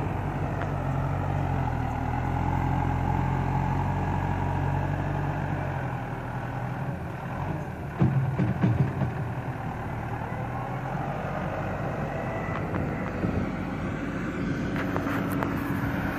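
A Case JX-series farm tractor used for hauling manure in a village rolls in and settles into a steady idle, a low continuous diesel rumble with a few brief clunks midway.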